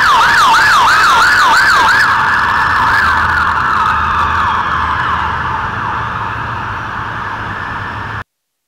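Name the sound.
police car sirens at a nearly empty Houston airport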